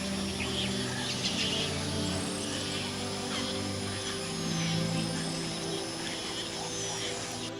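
Birds calling across a built stormwater wetland sanctuary where herons, egrets and wood ducks roost, a dense continuous chorus of chirps and calls with steady low rumbling underneath.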